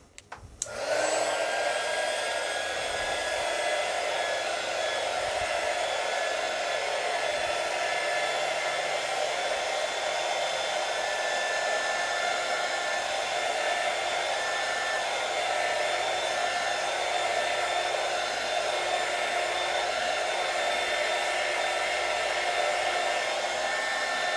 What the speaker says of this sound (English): So we're going to do this half here with the heat gun.